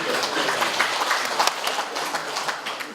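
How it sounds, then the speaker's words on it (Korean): Audience applause at an academic seminar, a steady wash of many hands clapping at moderate loudness for about three seconds, with no clear talking over it. "박수 한번"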